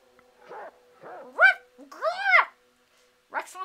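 A dog barks in the Reigns video game, a few short, clear barks and yelps in quick succession with brief pauses between them.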